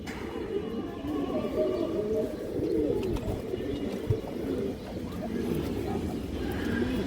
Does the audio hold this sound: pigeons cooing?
yes